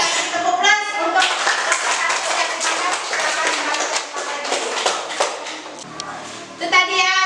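A classroom of schoolchildren claps a rhythmic patterned cheer for a group that has just presented, a run of sharp, fairly close handclaps mixed with children's voices.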